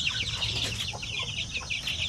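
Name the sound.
chicks of Shamo and Aseel chicken breeds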